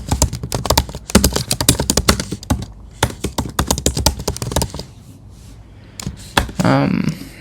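Code typed on a computer keyboard in rapid, close clattering bursts with brief pauses, someone talking over parts of the typing.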